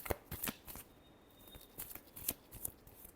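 A deck of tarot cards is shuffled close by in a few quick riffling bursts with soft papery flutters and taps, the burst near the end sharpest.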